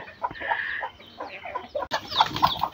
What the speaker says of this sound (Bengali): এই মুরগিটা বাসা বসছে আর কি, বাচ্চা ফোটানোর জন্য বসছে